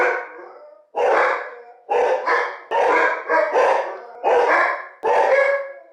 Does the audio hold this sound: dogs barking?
yes